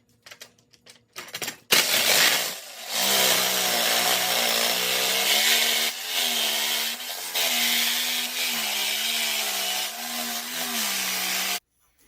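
An unmounted bench grinder spins up and runs loudly with a steady whine whose pitch wavers as metal is pressed against it, then stops abruptly.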